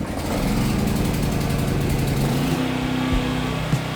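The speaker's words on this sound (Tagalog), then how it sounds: "Tara, i-start natin yung ating generator." Philking PK200A inverter welding generator started with its recoil starter, its small engine catching and running loud and steady at close range, then the pitch shifting partway through as it settles.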